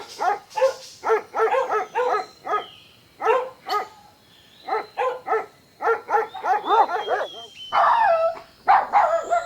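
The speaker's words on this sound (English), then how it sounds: "dog" A farm dog barks close by in a rapid, uneven string of sharp barks, roughly twenty in quick bursts with brief pauses, loud and alone.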